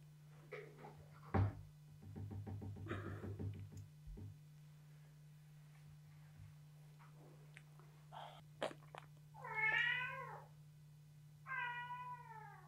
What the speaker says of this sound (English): Some cats.